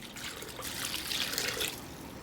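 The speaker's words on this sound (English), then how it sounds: "Now we add some very warm water to help dissolve these ingredients into a solution." Very warm water pours into bowl of bread ingredients for honey whole wheat dough, a close, continuous splashing trickle that swells slightly mid-pour and holds steady to the end.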